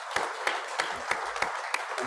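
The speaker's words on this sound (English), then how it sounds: "I omitted to give you a round of applause too." An audience at a Rotary speaker evening claps in steady applause, a dense wash of many hands with a few louder individual claps standing out, filling the room with no voices over it.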